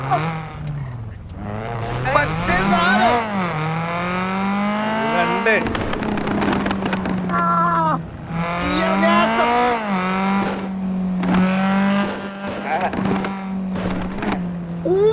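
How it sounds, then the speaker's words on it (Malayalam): A car engine revs loudly and close, its pitch repeatedly climbing and falling as it is driven hard, with sharper bursts between the sustained revs. "ഞാൻ എന്റെ വണ്ടി ഒന്ന് ഓടിച്ചിട്ട് വരാവേടാ"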